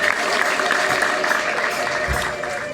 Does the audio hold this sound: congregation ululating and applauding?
yes